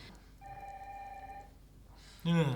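A telephone rings with a steady electronic trill in a movie scene, sounding twice over quiet background before a loud burst of people's voices near the end.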